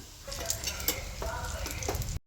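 Cooked rice tossed into a hot pan with egg and paneer, a soft continuous sizzle with scraping stirs and clinks, under a faint voice, cutting off abruptly.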